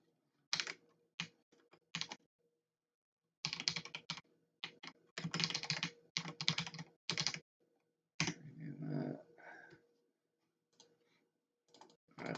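Bursts of typing on a computer keyboard during a live game-design session in Godot, with quick clattering key runs separated by pauses, close and fairly clear.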